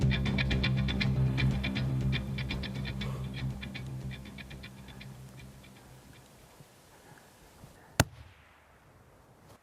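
A rifle fires once at a caribou at about 435 yards in the Alaskan wilds, a single sharp crack standing out after a stretch of steady ticking background noise that gradually fades.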